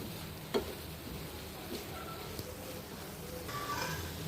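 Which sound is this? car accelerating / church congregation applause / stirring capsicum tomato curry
stirring capsicum tomato curry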